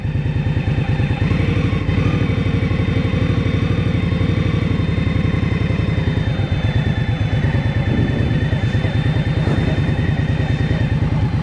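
Liquid-cooled 2023 Indian Scout Rogue motorcycle engine on a ride, a loud, steady, close throbbing drone that holds throughout with no speech.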